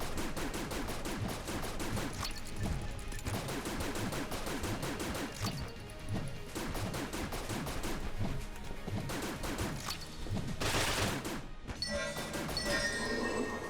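Rapid gunfire from a gun in Enter the Gungeon, dense repeated shots in fast bursts nearly throughout, with brief pauses and a crash-like blast near the end.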